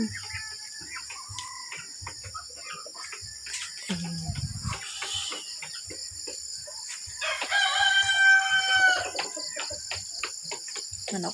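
A rooster crows in a rural yard one rainy morning, a clear rising and falling call near the end, over steady chirping insects and scattered clucks and small knocks nearby.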